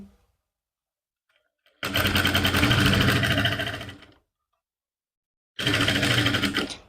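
Sewing machine stitching a lined suit with fine stitches, in two loud close bursts separated by silence, the first about two seconds long and the second shorter.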